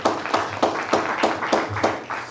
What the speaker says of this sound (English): Let's give Edray another round of applause.